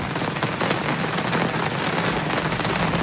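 Steady, dense rain drumming on a roof, a continuous close patter with no voices.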